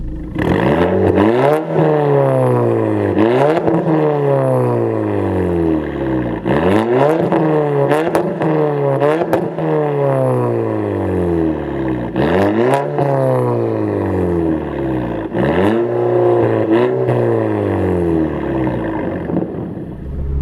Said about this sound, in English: I'm just gonna give it a rev test so you guys can hear the exhaust.